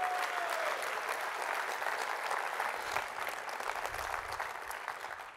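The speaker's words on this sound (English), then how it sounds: "let's give him a round of applause" Audience applauding as a man is called up on stage, a dense steady round of clapping at close range that holds evenly for several seconds.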